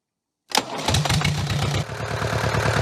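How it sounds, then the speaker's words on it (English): A Jabiru aircraft engine cranks and fires after a moment of silence, then settles into a loud, close, steadily pulsing run. "gentlemen, start your engines. Start it."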